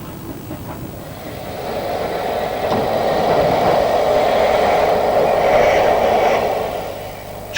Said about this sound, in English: locomotive number 323 is a Wainwright-designed P-class